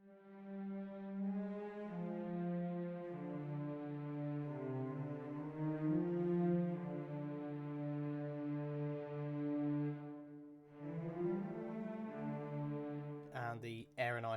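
Low strings from the Spitfire Audio Albion V orchestral library hold long sustained notes that slowly shift pitch, then cut off briefly before another phrase enters near the end, with no talking.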